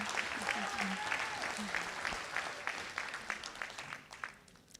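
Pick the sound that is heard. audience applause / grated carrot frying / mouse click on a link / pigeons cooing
audience applause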